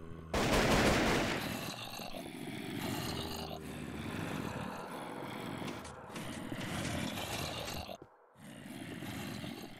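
An AK-47 fires in a Call of Duty zombies mod inside Minecraft, a loud, dense stream of rapid gunshots that starts hard, runs on for several seconds, breaks off briefly and then resumes.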